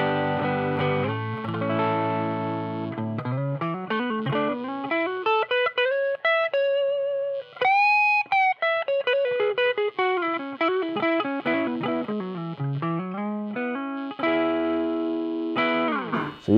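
Electric guitar played through a Wampler Germanium Tumnus overdrive pedal set for light breakup, treble around three o'clock: sustained chords and melodic single-note lines with mild grit, solo and clear.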